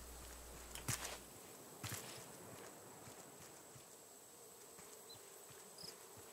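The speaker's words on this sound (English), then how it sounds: "They're bees!" In the survival video game Raft, bees buzz as a faint, steady insect drone, heard close and low under a couple of sharp clicks or footsteps, with no speech.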